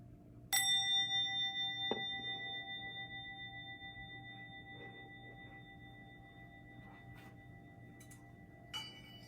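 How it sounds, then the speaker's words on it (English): A single bell is struck once to close a breathing session, its clear ring decaying slowly over several seconds in a quiet room, followed by a faint second tap near the end. "just listen to the bell"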